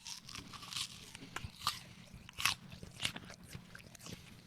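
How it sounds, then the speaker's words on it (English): A small juicy Gala or Ambrosia apple is bitten and chewed up close, with several crisp crunches followed by wet, squishy chewing in a quiet setting. "Every time you chew, you can just feel an explosion of juice and flavor."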